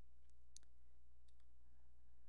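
Mouse clicks while choosing a string set attribute type in the AWS DynamoDB management console: a few faint, sharp clicks spread out over a low steady hum.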